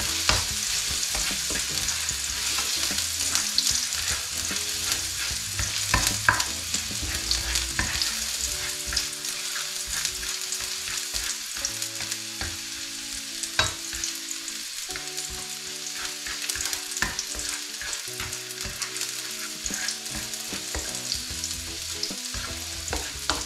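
Ginger frying in cooking oil in a pan as a pork offal papaitan is started, a steady close sizzle and crackle that continues unbroken throughout, with occasional stirring clatter and no talk.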